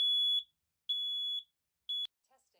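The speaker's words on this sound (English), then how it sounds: "The alarm will sound. The alarm is loud." A Nest Protect smoke alarm sounds during a self-test, giving three loud, piercing, steady beeps in an even rhythm, the last one cut short.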